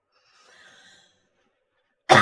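A person coughs during an ASMR live stream: a soft breathy sound early on, then silence, then one loud, sudden cough burst right at the end.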